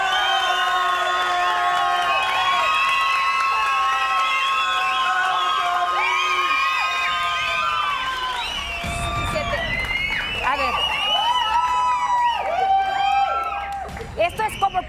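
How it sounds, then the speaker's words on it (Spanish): An audience at a televised dance class whoops, shouts and cheers loudly for a long stretch, excited voices overlapping in a continuous crowd din with scattered high-pitched yells. "Aplausos, chicas, chicos."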